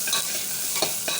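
A short burst of meat frying in a pressure cooker, with a bright continuous sizzle and a couple of quick stirring scrapes. No voices are heard.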